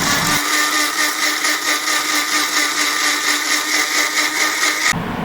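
An electric blender whirs loudly while blending grape and mango juice, a steady high motor whine that starts abruptly, holds close and constant, then cuts off just before the end.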